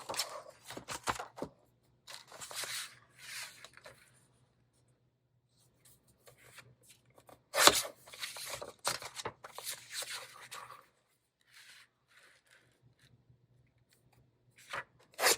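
Scissors snip through a sheet of craft paper in a few short, crisp bursts of cutting and rustling, close and fairly quiet, with pauses of near silence between them.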